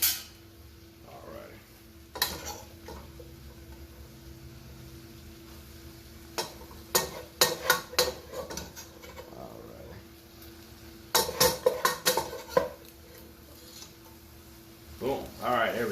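Pasta tossed into a pan of sizzling jerk alfredo sauce, a steady soft sizzle under clattering stirring and scraping bursts from utensils against the pan, close, with some talking.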